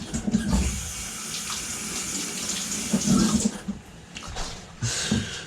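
Running tap water pours steadily into a sink as something is rinsed during home canning, a continuous close splashing wash with slight surges and no talk.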